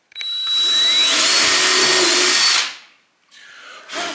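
A power drill bores into wood while building an Adirondack chair, spinning up with a sharp start into a loud sustained whine for about two seconds, winding down, then a quieter brief burst after a pause.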